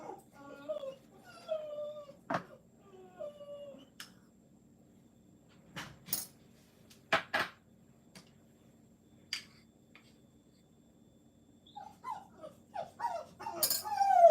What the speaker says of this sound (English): My dog's at the window like freaking out about something outside.